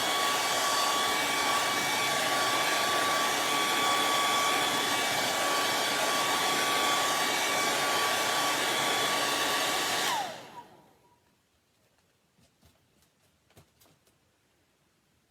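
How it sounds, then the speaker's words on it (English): A blow dryer roars steadily at close range for about ten seconds, drying chalk-decorated cut-outs, then shuts off and winds down, leaving quiet with a few faint clicks. "I'm going to hit a blow dryer on him"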